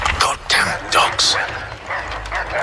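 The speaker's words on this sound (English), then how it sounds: "Goddamn dogs." Dogs barking in the Assassin's Creed III Remastered video game, short yapping barks repeating over loud game dialogue and shouting.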